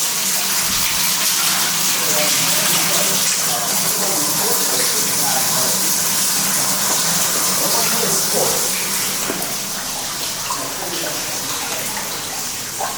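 Running water gushes steadily inside an abandoned building, a continuous broadband rush that stays loud throughout and eases slightly near the end, with no talk over it.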